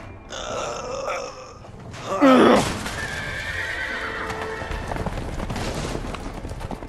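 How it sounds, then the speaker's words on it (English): Horses neigh as they escape in the video game A Way Out. A loud, close whinny rises mid-clip among snorts, grunts and clattering hooves, over a layer of game ambience. "Ah, hell, the horses are escaping, honey."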